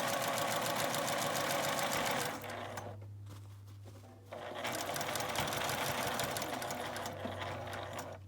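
A sewing machine stitches a tote bag strap with backstitching, running in fast, steady bursts, pausing briefly, then resuming its rapid mechanical whir close by.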